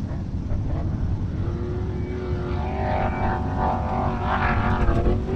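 An off-road race truck runs the desert qualifying course at Ridgecrest, a continuous loud engine roar with a rising and falling whine as it revs through the run, heard alone without talk.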